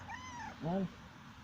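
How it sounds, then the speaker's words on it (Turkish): A cat gives a few soft meows, a faint thin call followed by a louder, short, wavering meow near the middle, close by in a quiet room. "Mıv yapıyor, mıv yapıyor."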